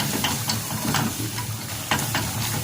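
Béchamel sauce stirred briskly in a pan, a soft continuous sizzle with scraping strokes of a spoon coming through in quick, uneven bursts close up.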